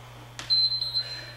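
An interval timer beeps during a TRX and dumbbell HIIT workout, sounding one short, clear, high electronic tone after a brief click, over a low steady hum.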